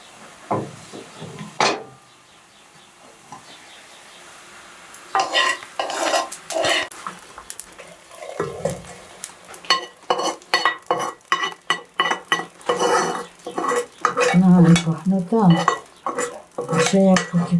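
A frying mixture is scraped and stirred in a cast iron pot, with irregular metallic clinks and scrapes coming close and loud over a soft sizzle, quieter at first and busier toward the end.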